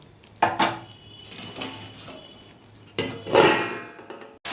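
A lid goes onto a cooking pot with two close, distinct metallic clanks a few seconds apart, the second followed by a brief rattle, against a quiet kitchen background.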